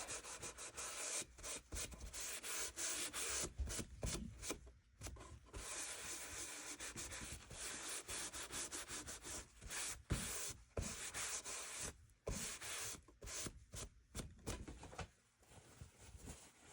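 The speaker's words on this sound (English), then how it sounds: "Put some on my rag or my shop towel and you rub it on." A rag rubbing dark wax onto thrifted wooden furniture, making a continuous close scrubbing and swishing with short pauses between strokes, no talk.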